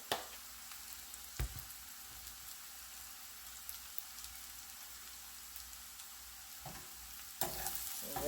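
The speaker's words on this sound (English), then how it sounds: "When you are sauteing, you can add all these things, so that also gets sauteed" Fish masala sautéing with coriander powder in a pan for Kerala-style pearl spot cooked in banana leaves, giving a steady close sizzle with a few stirring scrapes and louder bursts near the end, no talk.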